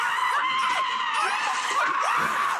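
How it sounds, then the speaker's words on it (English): Loud, continuous screaming from the film Possession, a sustained high, strained shriek with wavering pitch and a few sharp upward cries, filling the whole moment with no pauses. "There are many screams in this film."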